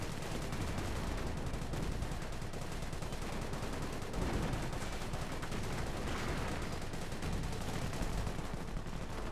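Dense, continuous gunfire rattles without a break as rounds strike a Panther tank in the Company of Heroes war strategy game, with overlapping machine-gun bursts at a steady, loud level.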